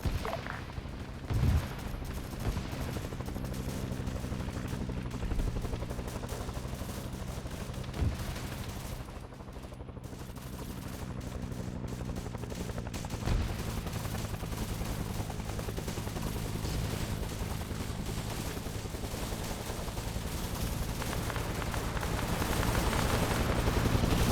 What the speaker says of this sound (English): All call signs Mayday, caution, fast artillery coming in again.